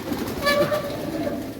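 Pigeons kept in a loft ahead of external deworming give a soft, steady cooing that sits close by against a low constant background hum and runs without a break.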